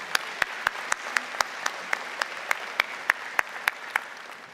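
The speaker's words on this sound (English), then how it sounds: "let's give a big hand of applause for him and all he does" Steady audience applause at a spring university convocation ceremony in Alberta, a dense field of clapping with a few sharp, louder individual claps standing out at regular intervals, continuous throughout with no talk.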